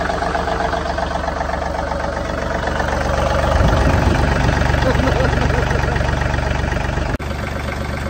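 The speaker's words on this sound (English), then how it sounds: "I think it's time we fire her up. Cold, oh, there's neutral. Silly thing. Cold start." An older Hyundai car engine starts from cold and settles into a loud, rough idle, a steady low rumble that swells briefly partway through before a sharp click near the end.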